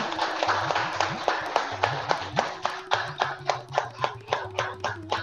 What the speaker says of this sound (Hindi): तालियां तालियां और जोर से।